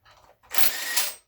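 An impact wrench briefly zips as it removes a bolt during teardown of a GM 2.4 Twin Cam engine: a short soft lead-in, then a loud harsh burst of about a second, heard alone and close.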